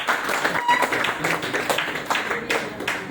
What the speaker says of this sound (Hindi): ताली आप लोग बजा रहे हो, क्यों बजा रहे हो?